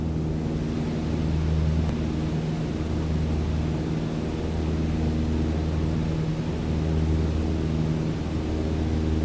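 Steady droning engine of a light aircraft in level flight in Microsoft Flight Simulator 2020, a constant low hum with broadband rush, loud and continuous throughout with no voices.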